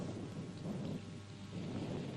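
Steady rain with low rumbling thunder on a grey, cloudy day at a cricket ground, a dense continuous wash of noise with no voices.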